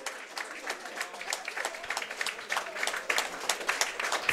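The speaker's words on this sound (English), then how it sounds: "Scott Robertson, Craig Ross get the troops over to applaud the fans." Scattered applause from a modest crowd at Meadowbank stadium after a Scottish football match, uneven claps pattering on and off at a moderate distance, with faint voices mixed in.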